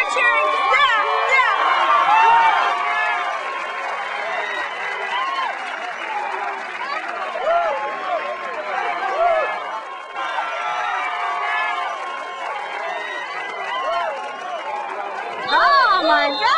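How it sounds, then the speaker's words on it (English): A crowd at a football game cheers and chatters, a dense, continuous roar of many voices with shouting, swelling near the start and the end. "You're cheering!"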